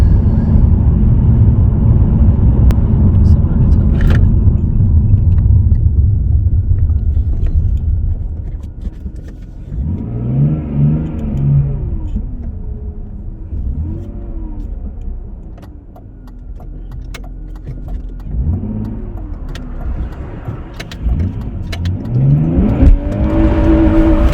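A car engine revs in repeated throttle blips after a repair, rising and falling sharply with a crisp response over a steady running drone, close and loud, with no talking.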